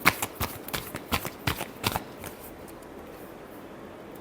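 Tarot cards being shuffled by hand, a quick run of crisp riffling slaps in steady rhythm for about two seconds, then fading to faint soft rustling, close and fairly quiet.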